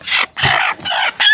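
Chicken hen clucking, four loud, close, drawn-out squawking calls in quick succession.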